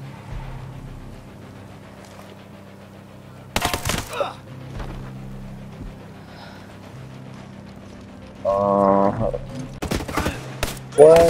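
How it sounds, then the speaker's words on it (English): Gunfire in an online shooter game: two sharp, loud broadband blasts around four and ten seconds, followed by a burst of shots near the end, separated by a quiet droning hum. "that was a shotgun"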